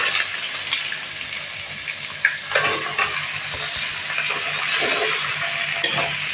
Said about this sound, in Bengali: পেঁয়াজগুলোকে হালকা ভেজে নেব।